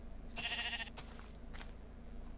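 Goats in Minecraft bleat faintly, with one short wavering bleat and a couple of brief fainter cries over a low steady background hum, and no one talking.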